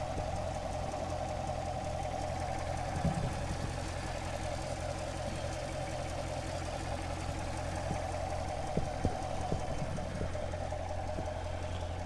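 A 2015 Chevrolet Corvette engine idles steadily with an even, low mechanical hum and a faint ticking rhythm, running on its own without pause, with no abnormal noises.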